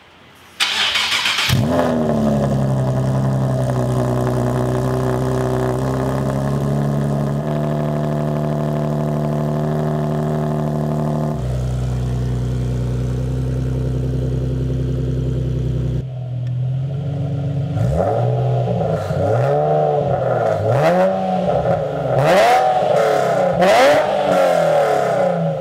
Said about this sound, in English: Here comes the first cold start with the full new exhaust system.